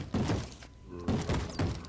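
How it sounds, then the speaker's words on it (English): Zombies punching doors in a modded survival video game: three dull, knocking thumps in a steady rhythm, fairly close and moderately loud, with no talk over them. "Zombies punching doors."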